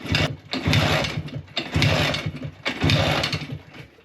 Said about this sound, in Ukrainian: Щось ніфіга він не заводиться